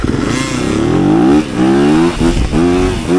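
A 2023 Yamaha YZ250FX dirt bike launches from a dead start on a drag track, its engine loud and close, climbing through revs with brief dips at gear changes, and no talking.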